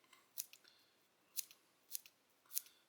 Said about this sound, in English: You can dull up some scissors pretty quick cutting deer hair if you're not careful.